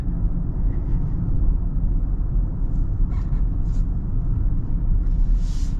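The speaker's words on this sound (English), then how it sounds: "Oh, this V8's wonderful." The V8 engine of a 2024 Audi SQ8 drones steadily while driving, a deep, even low rumble heard from inside the cabin, with faint brief sounds over it and no talking.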